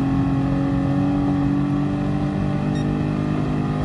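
A Ferrari Enzo engine in Gran Turismo Sport holding a loud, steady high-revving drone with strong harmonic whine, close and continuous without breaks.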